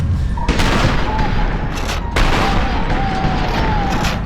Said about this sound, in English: Shot sound effects itself is understated, but as part of the whole audio-visual mix,